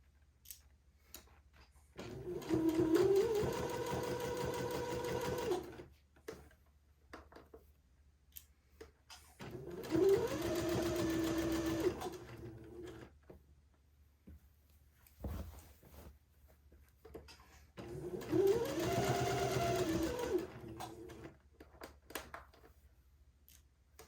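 A home sewing machine stitches pleats onto a bishop dress in three separate bursts of whirring, each lasting a few seconds with quiet pauses between, faint and close.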